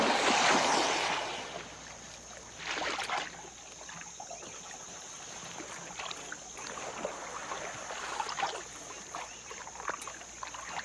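A canoe paddled through swamp water in alligator country, with a burst of water splashing at the start and soft, irregular paddle strokes and drips close by, set against light wind.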